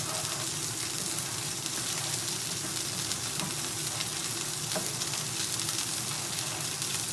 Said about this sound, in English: keep stirring in this rice